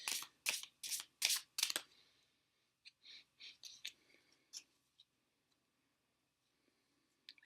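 A deck of Tarot Rhenan cards by Ignaz Krebs being riffled several times in quick, crisp bursts, then softer, scattered flicks and taps as the deck is handled up close.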